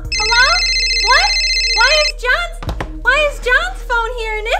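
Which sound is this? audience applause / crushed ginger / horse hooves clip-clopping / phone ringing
phone ringing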